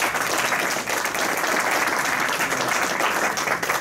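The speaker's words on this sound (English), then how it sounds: "So give her another round of applause" Continuous, full-room applause from attendees at a Rotary Club meeting, loud and sustained without a break throughout.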